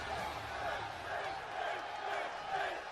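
A WWE 2K wrestling crowd before a Finn Balor versus Randy Orton main event, a steady roar of cheering that rises and falls in waves under a commentator's voice.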